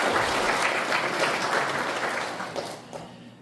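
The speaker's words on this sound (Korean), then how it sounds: "박수로 맞이해 주십시오." Ceremony audience applauding an introduced guest at a commemoration of the Korean Provisional Government, full, loud clapping from many hands that gradually thins and softens toward the end.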